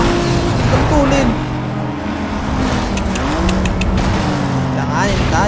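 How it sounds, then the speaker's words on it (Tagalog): A Mitsubishi Eclipse races in Need for Speed Most Wanted, its engine droning and rising in pitch through gear changes with brief tire squeals, under excited commentary. "Hindi makahabol ang ating Mitsubishi Eclipse."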